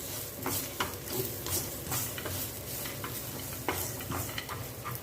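Sesame seeds and peanuts frying in a kadai, with a steady close sizzle and repeated scraping stirs clicking against the pan, no voices.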